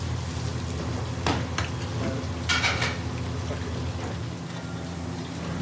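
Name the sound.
Katla fish cooking in a pan for Bengali fish curry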